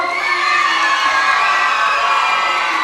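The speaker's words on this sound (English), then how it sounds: "Mark Theobald, everybody, clap it up for Mark" A high school audience cheers loudly for a comedian taking the stage, a dense wall of shouts and whoops with children's voices filling the room.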